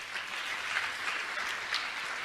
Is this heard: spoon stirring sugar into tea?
no